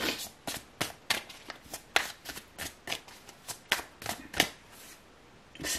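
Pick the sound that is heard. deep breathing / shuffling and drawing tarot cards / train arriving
shuffling and drawing tarot cards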